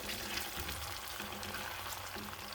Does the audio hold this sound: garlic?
yes